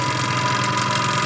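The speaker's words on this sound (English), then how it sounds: "So that's the sound of compressor." Tankless airbrush air compressor running non-stop, a steady continuous motor drone with a constant hum and even hiss, loud and close, alone throughout.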